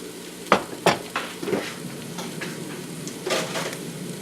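Onions slow cook in a pan with a soft, steady sizzle, broken by a few scraping stirs and light clinks of a utensil against the pan.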